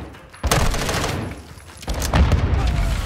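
Rapid gunfire bursts in Call of Duty Modern Warfare II during a prison break mission on PS5, loud and close, with two sharp onsets of fusillade-like shooting and dense rumbling noise between them.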